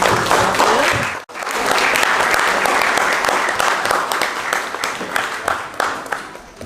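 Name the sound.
applause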